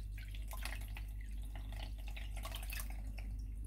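Water dripping and trickling from a wet recycled paper-bag pulp mixture through a kitchen sieve, a steady close patter of small drips over a low constant hum.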